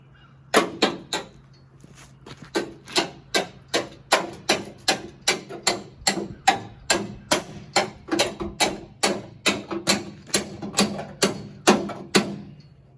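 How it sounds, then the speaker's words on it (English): A hammer repeatedly striking a panel buster chisel to split welded car body panels, around twenty sharp metallic blows in an even, steady rhythm, close and loud. "we'll try to boost this with this panel buster and a hammer."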